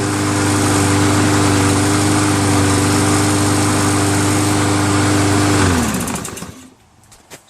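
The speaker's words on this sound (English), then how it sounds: "Engine runs so smooth, man." A Troy-Bilt TB110 push lawn mower's engine, freshly cleared after being hydrolocked, runs loud and steady close by before shutting off and winding down to quiet near the end.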